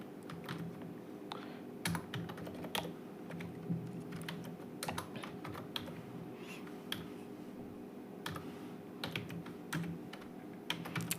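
Steady typing on a computer keyboard while entering text in a Linux terminal editor, with quiet, irregular keystrokes and occasional sharper clacks over a low background hum.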